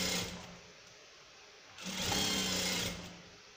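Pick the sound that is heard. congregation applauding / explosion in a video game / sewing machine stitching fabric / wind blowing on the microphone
sewing machine stitching fabric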